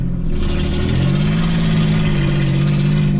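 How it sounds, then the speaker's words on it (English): A straight-piped Ford Ranger pickup's exhaust runs loud and close, a steady deep burble with a low rumble that swells slightly as the engine revs, heard alone without talk. "I don't enjoy this exhaust sound."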